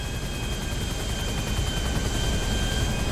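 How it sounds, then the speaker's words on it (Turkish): A helicopter's rotor chop and engine roar in GTA 5 fill the clip, steady and loud with a dense low-frequency rumble throughout. "Çok fazla helikopter var lan tavanda niye?"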